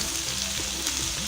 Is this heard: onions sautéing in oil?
yes